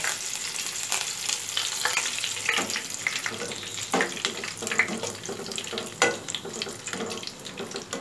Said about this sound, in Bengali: এবার কারি পাতাগুলোকে দিয়ে ভেজে নেব